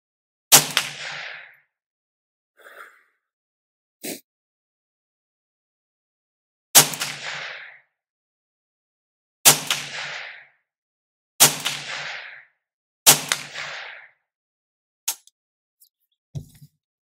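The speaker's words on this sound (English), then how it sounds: "let's go ahead and shoot a 5-round group at the bottom right-hand corner" Faxon FX22 .22 rifle with a Magpul 16-inch fluted bull barrel firing five rounds of Winchester .22 ammunition, sharp cracks spaced a few seconds apart with short decays and a few quiet clicks between shots, no talking.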